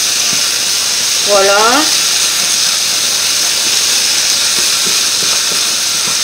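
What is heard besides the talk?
sizzling oil in the pan while cooking apple blood sausage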